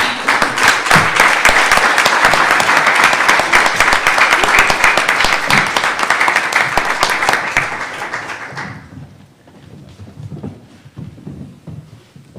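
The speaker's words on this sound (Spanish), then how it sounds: "Y no dejen de aplaudir" Loud, dense audience applause at a book presentation, sustained for about eight seconds before fading out into quiet room noise with a little indistinct voice.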